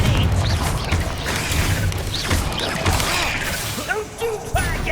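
Confringo blast spells explode in Hogwarts Legacy combat, giving repeated crashing bursts and whooshes under loud game voices and battle noise throughout.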